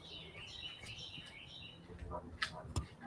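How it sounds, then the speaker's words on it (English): Birds chirp in short bursts from some distance, a few sharp calls standing out near the end over faint outdoor background. "You hear the birds."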